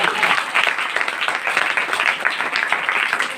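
A church congregation claps together in a dense, sustained burst of applause, loud and continuous throughout.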